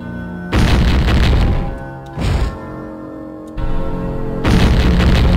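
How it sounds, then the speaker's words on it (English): A bomb detonates at a gate in a video game, producing loud booming blasts, several heavy bursts with rumbling tails, close and full, with no talking. "Oh yeah, we're gonna bomb the gate!"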